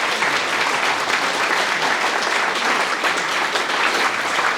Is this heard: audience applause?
yes